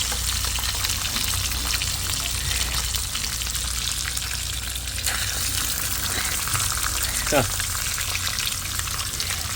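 Sapsap fish frying in hot oil in a pan, a loud, dense, continuous crackling sizzle that holds steady throughout, close up.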